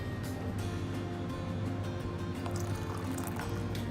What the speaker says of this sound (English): I'm going to put a wee bit of water in it